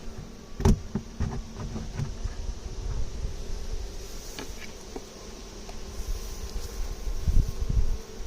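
Honeybees drone steadily around a hive, a dense continuous buzz with occasional knocks and clicks from nearby handling of the hive lid, no voices.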